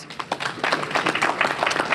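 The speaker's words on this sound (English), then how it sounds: "Give yourselves a round of applause." Audience at a community air-quality conference applauding, a dense steady patter of many hands clapping at close range with no talk over it.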